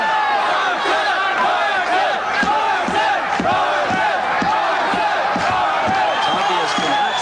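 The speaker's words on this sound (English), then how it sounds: "It's obvious from that sound that the crowd is behind Martin Friolet" A loud, dense boxing crowd roars and cheers continuously during a 1988 fight, with rhythmic thumps and shouts rising throughout.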